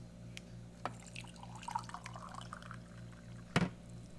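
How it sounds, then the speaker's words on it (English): Hot water poured into a cup of Italian military ration drink mix, a quiet liquid trickle with a few drips and a sharper splash near the end, over a steady low electrical hum. "So let's blast some hot water in it."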